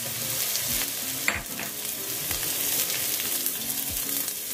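Lemongrass fries in a pan for fried rice, a loud steady sizzle with repeated scraping strokes of a spatula against the metal and soft background music.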